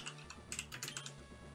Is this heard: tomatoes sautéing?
no